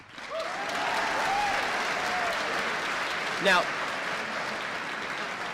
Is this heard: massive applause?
yes